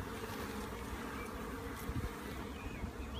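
Honey bees buzzing at an urban Beehaus hive in London, a steady close drone of many insects with no pauses, alone without talk.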